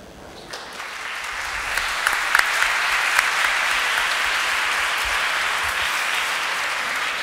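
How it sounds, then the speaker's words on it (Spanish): A seminar audience bursts into steady, sustained applause for two speakers that swells and holds at an even level, many hands clapping together. "Extendamos el aplauso para ambos expositores"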